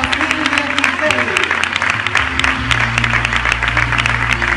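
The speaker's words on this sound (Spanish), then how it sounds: "un fuerte aplauso a las 5 finalistas de Miss Gran Huerta" Audience applauds the five finalists of a Miss Grand Huelva 2016 beauty pageant, sustained clapping that stays loud the whole time, with a low droning sound from the hall running underneath.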